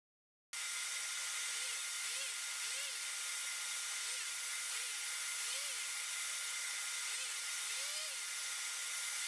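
A power tool and a shop vac run together in a woodworking shop while salt and pepper shakers are shaped. A loud, steady high-pitched whine starts abruptly and holds, with repeated rising-and-falling pitch swoops as the tool is worked.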